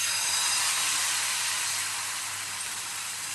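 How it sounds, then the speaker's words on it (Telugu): Ragi attu batter hits a hot oiled pan and sizzles with a steady, close, bright hiss that holds for a few seconds and eases slightly toward the end. "కొంచెం ఆయిల్ అప్లై చేసి ఇప్పుడు ఈ రాగి అట్టుని వేసుకోవాలి"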